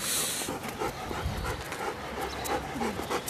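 A friendly dog at an Andalusian animal shelter pants rapidly and steadily close by, with soft shuffling and faint whimpers mixed in.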